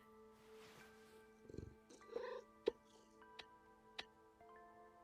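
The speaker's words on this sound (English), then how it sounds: "It purred. Did you hear it?" A cat in a video game gives a brief, soft purr near the middle, set against steady chiming game music with a few light ticks.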